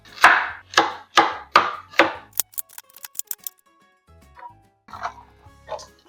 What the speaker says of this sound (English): So let's start chopping up some carrots.